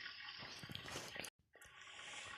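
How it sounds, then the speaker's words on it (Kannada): Rainwater pours steadily from a pipe into a storage tank at a house, a continuous hissing splash broken by a brief gap partway through, fairly faint and close. "ನೋಡಿ ಯಾವ ರೀತಿ ನೀರು ಬರ್ತಾ ಇದೆ."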